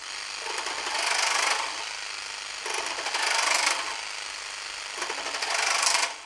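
Makita DJR189Z cordless reciprocating saw with a metal blade cutting 30 mm PVC pipe: rapid buzzing strokes that swell and ease in three close surges, fairly loud and without talk.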